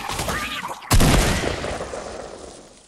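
Gunfire in a Fortnite zombies match: a sharp, loud blast hits about a second in and then rolls into a long, fading burst of echoing shots and rumble. Clutter and noise come before it.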